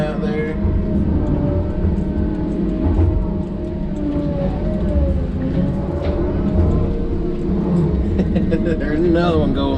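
Another truck drives by outside on a nearby road, a steady low rumble with a shifting engine whine that rises and falls as it passes, fairly loud and continuous.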